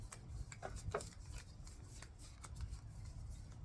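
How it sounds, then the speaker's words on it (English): Quiet riffling and flapping of an 80-card deck being shuffled, with soft rapid clicks and slaps close by. "80 cards in one deck. That's a lot. Trying to shuffle."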